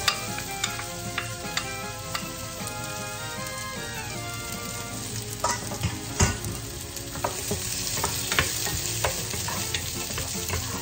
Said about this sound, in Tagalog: Ilagay natin ang sibuyas.